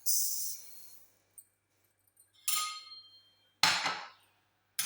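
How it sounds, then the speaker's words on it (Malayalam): Lentils (cherupayaru and parippu) tipped into a hot pan for roasting, a few separate bursts of rattling and hissing, each swelling briefly then fading, with the last and loudest grains landing near the end. "അതൊന്ന് ചട്ടി ചൂടായിട്ടുണ്ട് അതിലേക്ക് ഇട്ട് കൊടുക്കാം"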